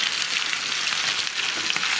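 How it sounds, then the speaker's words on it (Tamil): Fish frying in hot oil with salt crackling, a steady close hiss of sizzling broken by small pops and crackles throughout, with no voices. "இப்போ வந்து வெடிக்கிறது பார்த்திங்கன்னா உப்பில் உள்ளதுதாங்க"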